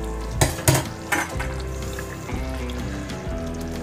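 Capsicum, tomato, chili and julienned ginger get stirred into a frying chicken gravy, with a few sharp spoon-against-pan knocks early on over a low bubbling sizzle, close by and without speech.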